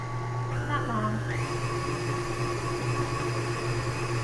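Electric mixer whirring steadily through marshmallow mixture with vanilla, a constant motor hum close by, with a short rising whine near the start as the speed changes.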